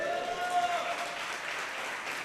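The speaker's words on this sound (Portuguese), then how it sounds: "dá um aplauso ao Senhor Jesus" A church congregation applauds during a sermon, a soft, diffuse wash of clapping heard fairly far off. A faint tonal hum runs underneath it.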